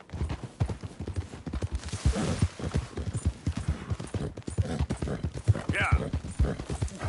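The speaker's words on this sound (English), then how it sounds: "That's a strong-looking horse." Horse hooves clip-clop in a steady rhythm in Red Dead Redemption 2, fairly close and continuous, running under game speech throughout.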